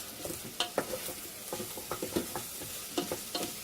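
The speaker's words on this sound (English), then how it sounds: "We're going to give that a good stir." Onions and pepperoni get stirred in an Instant Pot: a soft, irregular series of spoon scrapes and knocks against the pot over a quiet sizzle, with no talking.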